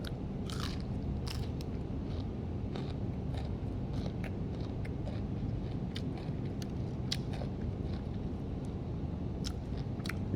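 Close, crunchy chewing and biting while eating spicy tilapia fish soup, repeated sharp crunches over a steady low background murmur, no talking.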